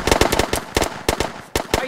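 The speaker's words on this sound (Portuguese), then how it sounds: "Aí já lancei muito tiro nele." Rapid bursts of gunfire in the survival video game Hurtworld, set in a city, crackle in quick clusters of sharp, loud shots with short pauses between them.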